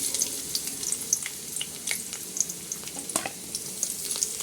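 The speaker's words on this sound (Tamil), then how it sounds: "வெங்காயம் வதக்கணும்." Chopped onions frying in hot oil in a pan for a wheat and egg pizza, giving a steady, fairly loud sizzle with scattered crackles and pops throughout and no voices.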